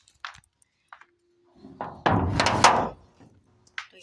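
A door in a home is locked: a couple of light metallic clicks come first, then a solid close thunk with a brief rattle, and a final small click, all nearby.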